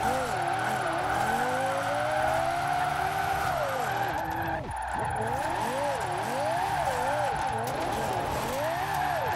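Lexus LFA driven in Forza Horizon 4, its engine holding a loud, continuous high-pitched wail that rises steadily, briefly cuts out mid-way, then swings up and down through repeated revving shifts, with what may be tyre noise beneath it.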